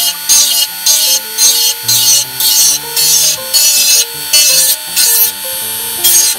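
Close rasping strokes of a file shaving down the inside of a plastic Aoshima Celsior model car body, thinning it about 5 mm from the edge, in steady repeated back-and-forth bursts with brief pauses between them.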